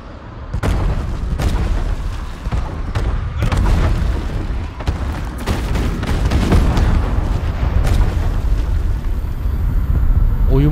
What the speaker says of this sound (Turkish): Ne kadar boktan bir patlama efekti lan böyle.